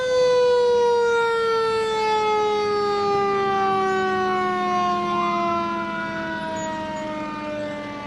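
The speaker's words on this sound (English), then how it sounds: "Followed by now the new engine from New London Fire Department traveled the" A New London Fire Department engine siren wails steadily and loudly in a fall foliage festival parade, its long tone slowly sliding downward, with a second siren tone joining near the end.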